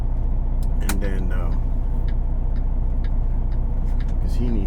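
A flatbed truck rumbles out of a parking lot with a steady, loud low engine drone and brief squeaky brake or air sounds, while a voice talks over it.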